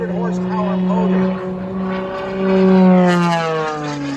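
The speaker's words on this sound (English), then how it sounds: "Goes into a knife edge spin. The incredible 300 horsepower motor" Aerobatic airplane with a 300-horsepower engine and Hartzell propeller tumbling in a knife-edge spin at an airshow at Willow Run Airport, a steady droning engine tone that rises and falls in pitch as it passes, loud and continuous.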